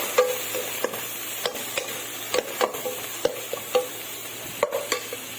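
Greens being stirred in a frying pan, a soft sizzle under repeated spoon scrapes and clacks in an uneven rhythm, close by and without talking.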